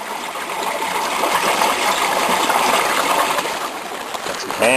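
Snowmelt water runs steadily through a new plastic drain pipe outdoors, a dense, continuous rushing trickle that stays close and fairly loud throughout, with a brief gurgle at the end.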